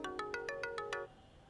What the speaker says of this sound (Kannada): Producer phone.